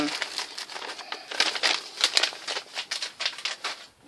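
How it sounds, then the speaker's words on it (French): Card sliding back into a paper envelope, producing close, rustling crinkles and papery scrapes in a steady stream of small bursts, quiet and alone. "je remets ça dans l'enveloppe"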